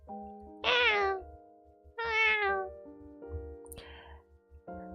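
A cat meows several times close by. The long, tonal cries come in a slow series over a low, rhythmic background pulse.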